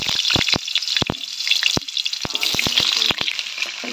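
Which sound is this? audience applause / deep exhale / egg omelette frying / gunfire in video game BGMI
egg omelette frying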